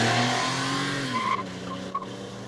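A small car in the Studio Ghibli film Ponyo races along a narrow cliffside road, its engine roaring close and loud before a sharp tire squeal as it swerves.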